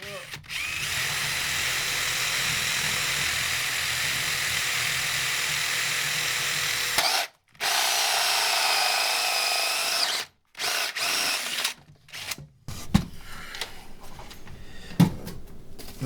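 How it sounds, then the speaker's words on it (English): A 57mm bit bores straight through with a loud, continuous power-drill grind, broken by a couple of short stops and followed by scattered knocks and clatter. "So we're a 57mm drill bit. We're just going to drill all the way through"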